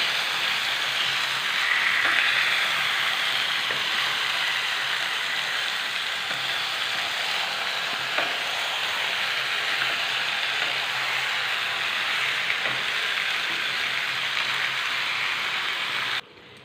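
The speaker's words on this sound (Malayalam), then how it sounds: "ഒരു മീഡിയം ഫ്ലെയിമിൽ വെച്ചിട്ട് മിക്സ് ചെയ്തെടുത്താൽ മതി" Chicken curry being stirred and fried in a pan over a medium flame, a steady close sizzle throughout with occasional faint scraping, no talking.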